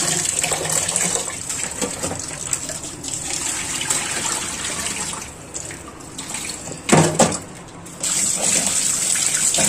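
Steady tap water gushes into a sink while meat is washed and rinsed, with a brief louder splash as the flow shifts partway through.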